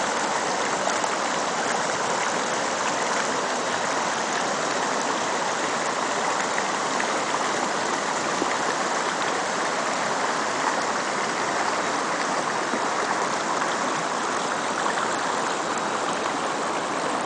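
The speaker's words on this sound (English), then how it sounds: "We'll have to find out what the name of this river is." Clear mountain stream near the Gunnison running beside a grassy campsite, a steady, full broadband rush of flowing water that holds even and close for the whole stretch with no voices.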